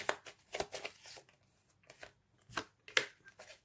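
Tarot cards being shuffled and laid out on a table, with several short papery flicks and slaps spread unevenly over a few seconds, close and fairly quiet.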